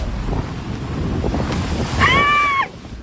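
Strong typhoon wind roars with big waves crashing at the Municipal Fish Landing in Pio Duran, Albay, a loud continuous rush of air and surf close to the microphone, with a brief tonal whistle partway through.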